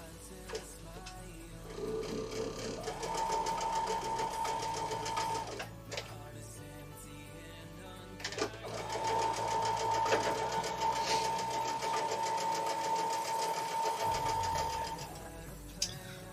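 A sewing machine stitches quilt blocks in two long steady runs of fast mechanical whirring, with a short pause and light handling noises between them, close and clear.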